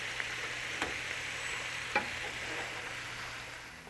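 Shrimp sizzle in a hot pan as a steady, soft hiss, with a couple of faint taps from the pan or utensil; no one speaks.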